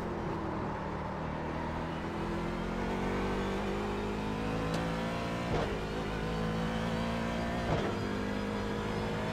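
A race car in the iRacing sim at Watkins Glen during an IMSA race, its engine droning steadily with sharp blips as it downshifts, loud and constant with no talking over it.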